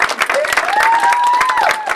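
A wedding congregation at a religious ceremony breaks into dense, close applause with cheering, and a high whistle or ululating cry rises and falls over the clapping.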